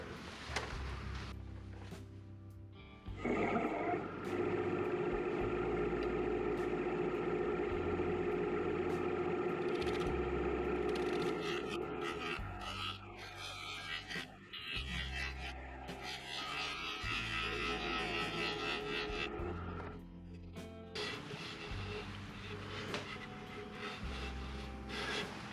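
Turning tool skimming a maple burl bowl filled with sawdust and CA glue on a lathe, a steady motor hum under a scraping, rasping cut that comes and goes in long passes.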